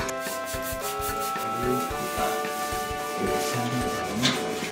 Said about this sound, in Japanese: 風呂場の鏡を洗うときは手で押さえておくのがポイントです。